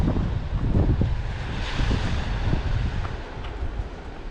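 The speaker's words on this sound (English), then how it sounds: "here comes a bit of a wave" Surf rolls in at a secluded beach at high tide, a wave surging and washing close by under gusty wind buffeting the microphone, rising and easing over a few seconds.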